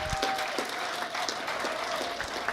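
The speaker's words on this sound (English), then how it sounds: "Can we have a round of applause for your candidates" A room at a municipal election candidate forum in Manitou Springs breaks into brief, dense applause for the mayoral candidates, a steady clatter of many hands.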